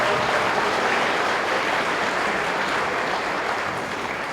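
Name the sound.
audience applauding at a school band concert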